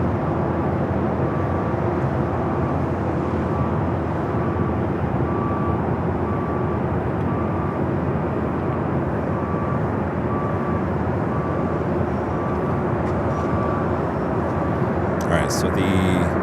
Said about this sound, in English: Japan Airlines in the One World livery. Dreamliner now making that right-hand turn.